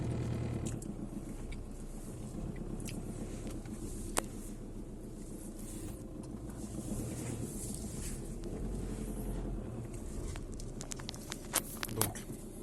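A VW Golf 5 2.0 TDI with a six-speed gearbox and a fault engaging first and reverse idles and drives slowly around a neighbourhood, its low, steady diesel rumble continuous with a few faint clicks and knocks on top.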